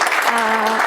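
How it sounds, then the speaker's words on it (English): Audience applause welcoming a speaker onto the stage at an accessibility tech session, a short, dense burst of clapping from the crowd that carries steadily through the whole moment. "Please, a round of applause."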